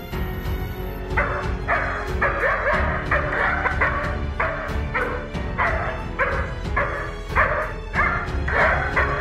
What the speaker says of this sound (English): the German shepherd dogs, with their heightened instincts regarding potential dangers, immediately started barking for a couple of minutes